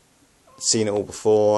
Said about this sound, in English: yes, that's just my cat.